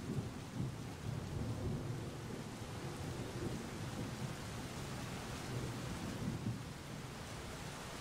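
Steady heavy rain with low rolling thunder, a dense continuous hiss and rumble with no pauses and no voices.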